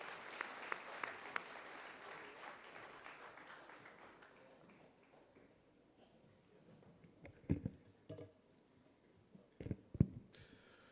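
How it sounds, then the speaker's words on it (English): Audience applause for a speaker at a debate session, a dense spread of clapping that slowly thins and fades, followed by a few louder bumps and handling noises near the microphone. "A round of applause for him, please."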